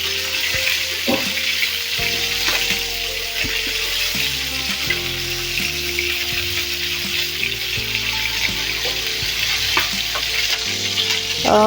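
Steady, loud sizzling of chicken frying in oil, a constant crackling hiss with occasional clinks of a utensil, no voices.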